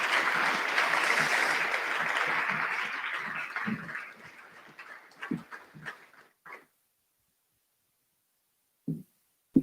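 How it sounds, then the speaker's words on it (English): Clapping from a school assembly audience at a Year 12 final assembly, broad sustained applause that fades over about four seconds into scattered claps, then silence with a few stray taps. "I think you should give the team that put that together and yourselves a big clap"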